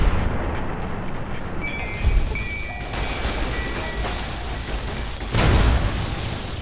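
Warheads blow up in Fallout: New Vegas with two deep, booming explosions a few seconds apart, each rumbling loudly over a steady background roar, with no talking.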